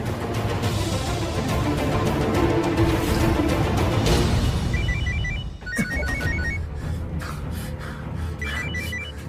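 A telephone rings with repeated electronic trilling bursts over loud background noise, the rings continuing in a steady pattern.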